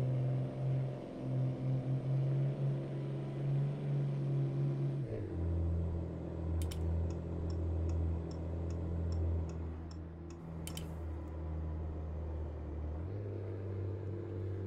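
Truck engine in American Truck Simulator: a steady low rumble that drops and shifts pitch around gear changes, with faint ticking clicks partway through, loud and continuous.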